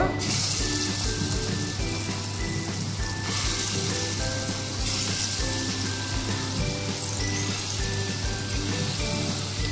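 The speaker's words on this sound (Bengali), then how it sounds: "এবার বড়াগুলো ভেজে নেব।" Chana dal fritters deep-fry in hot white oil with a steady, bubbling sizzle and a faint tonal hum in the background, and no voices.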